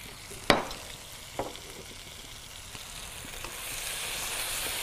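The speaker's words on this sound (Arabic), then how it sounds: "ونحرك شويتين" Food stirred in a sizzling pan, with a sharp scrape near the start and a softer one shortly after, then a continuous low frying hiss that swells slightly toward the end.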